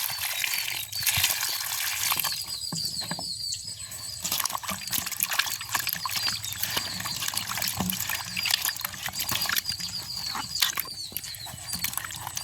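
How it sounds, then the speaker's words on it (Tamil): Potatoes being washed by hand in a container of water, with continuous splashing, trickling and sloshing close by for the whole stretch, and no talking. "உருளைக்கிழங்கு எல்லாம் இது இருக்கா நல்ல வடிவாக தண்ணியில் கழுவுவோம்"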